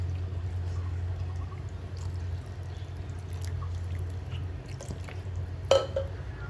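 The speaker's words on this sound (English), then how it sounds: "Now you add water to the level that just covers the chicken." Water pours into a pot over half a chicken, a soft continuous liquid rush with a faint background hum and a brief clink near the end; no talking.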